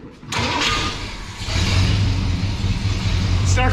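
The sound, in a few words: 1965 Ford Ranchero engine starting and revving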